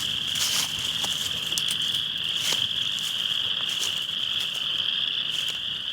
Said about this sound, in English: I don't know if you can hear the frogs. I'm assuming the camera is going to be able to pick that up because it is loud.